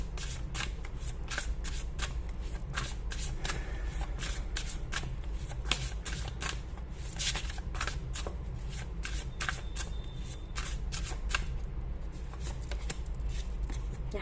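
Tarot cards are shuffled close up in a long run of crisp, rapid riffling bursts that repeat steadily, fairly quiet over a faint low background hum.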